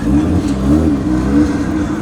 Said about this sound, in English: The JDM lineup of cars has just entered back from its outing on track.